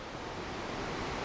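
Skógafoss waterfall in Iceland pours down in a steady, loud broadband rush that holds evenly from start to finish, with no voices over it.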